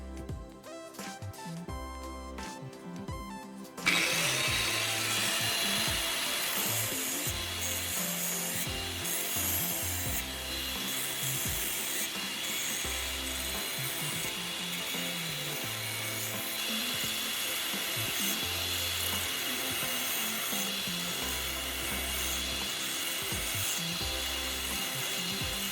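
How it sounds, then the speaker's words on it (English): A cutting tool grinds steadily through a small metal nail clipper piece clamped in a bench vise, a dense continuous rasping drone that runs on after a short burst of mechanical clicking at the start. "you should secure the piece with a bench vise and use a cutting tool"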